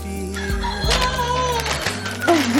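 Chickens and a crowing rooster at a backyard chicken coop on Christmas Day, with loud, close clucks and a crow over a steady musical background, no talking.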